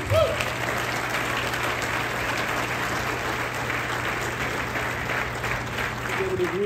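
Steady applause from a crowd at a groundbreaking ceremony for a VinFast electric vehicle factory in North Carolina fills the whole stretch, a dense even patter of many hands clapping at moderate distance.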